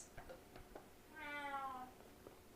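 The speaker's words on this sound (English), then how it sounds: "She just has this loud meow." Several faint clicks and taps, then one long, loud cat meow that swells and fades, with no talking.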